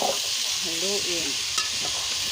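Constant loud sizzling of half-ripe jackfruit frying in a pan, with a short stretch of faint speech beneath and a single sharp scrape of a stirring utensil near the end.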